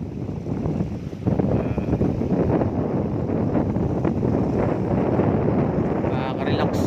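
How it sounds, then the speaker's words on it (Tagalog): Steady, loud wind buffeting the microphone with a continuous low rumble, gusting throughout without pause. "Hangin dito guys, lakas ng hangin."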